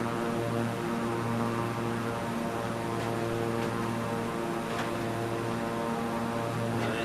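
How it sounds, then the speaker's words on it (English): An airplane engine in a flight simulator video game drones steadily with a loud, even tonal hum and no speech, holding a constant pitch throughout. "Plane is going good."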